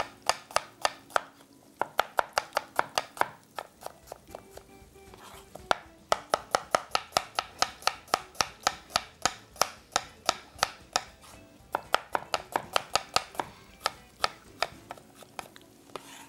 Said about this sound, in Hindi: 2 अदद दरमियानी प्याज, इसको बारीक आपने स्लाइस कर लें।